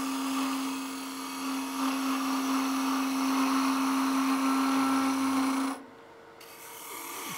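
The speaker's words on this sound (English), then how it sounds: "For that, I'm going to come in with my bowl gouge." A 3/8 bowl gouge cuts into a wooden goblet blank spinning on a lathe, giving a steady loud whirring, scraping hiss with a constant motor hum beneath, ending abruptly near the end as the cut stops.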